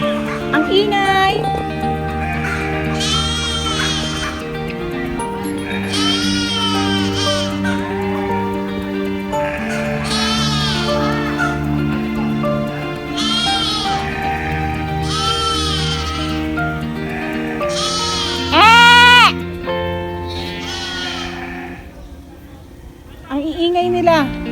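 A flock of sheep on a farm bleats loudly and close, many overlapping wavering cries repeating every few seconds in a noisy chorus, with one sharp louder call near the end.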